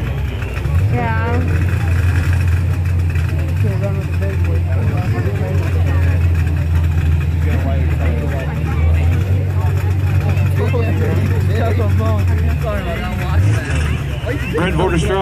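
Fox body Mustang race cars, including a 1990 Mustang with a 383 Windsor stroker and another with a 306 supercharged engine, rumble loudly and steadily at a drag event while a voice talks over the drone throughout.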